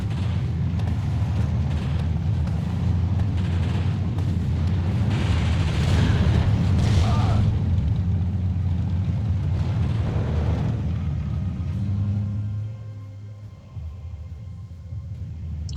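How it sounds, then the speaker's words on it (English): Artillery fire in the Steel Division 2 war game rumbles as a dense, continuous roll of deep booming explosions, loud and sustained, easing slightly near the end. "he has lots of artillery firing everywhere"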